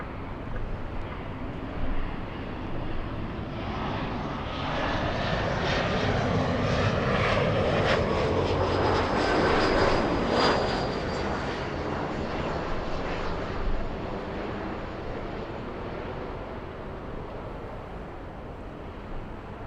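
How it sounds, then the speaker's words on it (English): SkyWest Embraer E-175 jet airliner arriving from Tucson, a broad roaring engine rumble that swells gradually to a peak and slowly recedes, steady and moderately distant, with no talking over it. "have the little E-175 flying in from Tucson, Arizona. We have SkyWest 3766."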